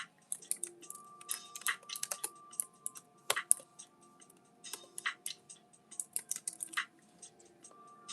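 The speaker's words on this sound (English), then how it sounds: "Let me type it in." Typing on a computer keyboard: irregular bursts of crisp, close key clicks with short pauses between, some louder taps standing out, in a quiet room with no talking.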